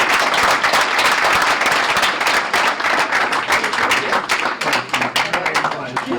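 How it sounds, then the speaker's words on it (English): An audience at a gubernatorial debate breakfast breaks into loud applause. The dense, steady clapping lasts throughout and thins slightly toward the end, with faint voices underneath. "a round of applause for the Economic Counselor for doing this"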